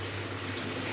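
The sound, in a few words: water poured into braising chicken curry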